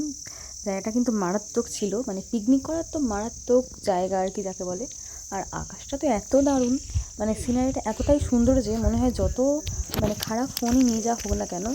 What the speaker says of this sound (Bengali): চারিদিকে ঝিঝি পোকার ডাক আর পাইন বন